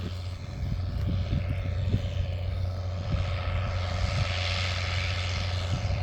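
A tractor pulls a Bednar tillage implement across a field, its engine a steady low droning rumble with broad noise rising toward the end, continuous and fairly loud, with no speech.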